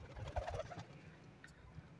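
Pigeons cooing softly near a net cage, low throaty coos and faint bird calls over quiet outdoor background, with no talk.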